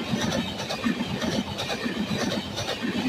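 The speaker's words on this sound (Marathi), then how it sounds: "खतरनाक अशा स्पीडमध्ये आता मार्केट यार्ड रेल्वे स्टेशन मधून गाडी थ्रू पास झालेली आहे।" Maharashtra Express with new LHB coaches, hauled by a WAG9 electric locomotive, races through Market Yard railway station at high speed: a close, loud, continuous rumble with rhythmic wheel clatter and no voices.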